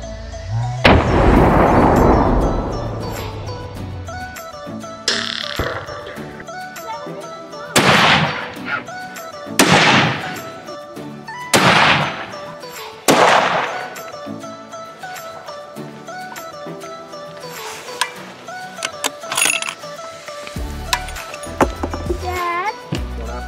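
Rifle shots fired off a bipod while zeroing at 200 during a mule deer and elk hunt in southern Alberta, heard as several loud, sharp reports spaced a few seconds apart, each with a decaying echo, amid outdoor background noise.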